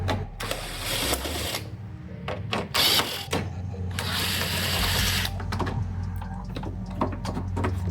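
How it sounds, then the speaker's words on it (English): Small headlight screws being backed out on a 2001–2011 Ford Ranger, close bursts of whirring power-driver buzz separated by short pauses, alongside light handling clatter and a low background hum. "go to whichever side you're replacing and take these little screws out"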